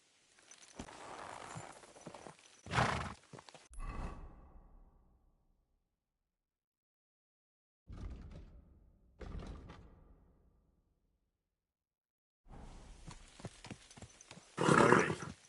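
Scattered horse hoof clops and thuds come in short bursts separated by long silences, loud and close, with a sharp bang near the start.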